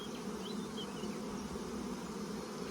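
Honey bees buzzing steadily around a hive outdoors, a dense continuous drone of many insects at moderate distance with no talk.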